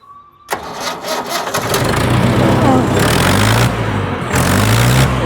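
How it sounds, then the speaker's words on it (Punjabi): A Mahindra 575 tractor engine cranks and catches, then settles into a loud, steady diesel rumble that runs on continuously. "ਆਪਾਂ ਤੁਹਾਨੂੰ ਸਟਾਰਟ ਸ਼ੂਟ ਕਰਕੇ ਦਿਖਾਉਂਦੇ ਟਰੈਕਟਰ ਦੇਖੋ"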